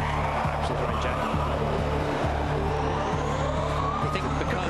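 Tyres skid under the steady whine of a Formula E car as its rear wheels lock during a race in London, with a continuous loud electric drone and a scrubbing hiss over a few seconds.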